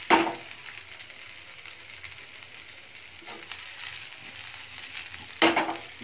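Potatoes sizzle steadily in a hot pan for jeera aloo, a soft continuous crackle with a couple of brief clinks from stirring.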